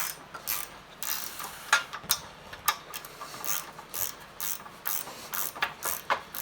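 A tool works at a tube-bending block to break it loose, giving a series of sharp ratcheting clicks and metallic snaps in an irregular rhythm, close and fairly loud, with no speech.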